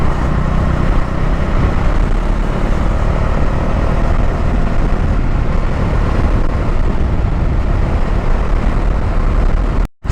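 A Bajaj Dominar 400 motorcycle riding along a Kenyan road, its steady engine drone blended with strong wind rush, loud and unbroken for the whole stretch before cutting off abruptly at the end.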